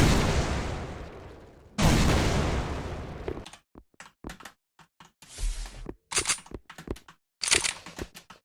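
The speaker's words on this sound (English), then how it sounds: "Oh yeah, you can rocket jump." Rocket launcher blasts in a fast-paced first-person game, used for rocket jumping: two long roaring explosions followed by a rapid series of shorter bursts and impacts, loud and close, with no talking.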